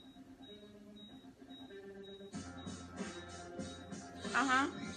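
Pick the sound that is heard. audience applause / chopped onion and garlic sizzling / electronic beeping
electronic beeping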